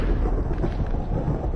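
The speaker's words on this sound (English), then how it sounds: "Sick thunderstorms." Thunder rumbling through a Minecraft thunderstorm, a dense, steady low roar that fills the whole short stretch at close, even loudness with no break.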